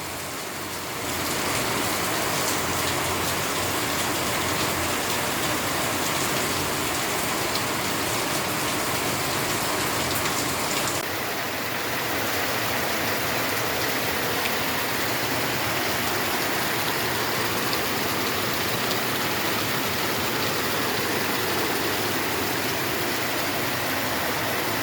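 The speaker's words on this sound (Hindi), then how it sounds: "गुरुवार को अचानक से जोरदार बारिश हुई।" Heavy rain pours steadily as a dense, continuous wash of hiss, loud and unbroken throughout with no voices, brightening slightly partway through.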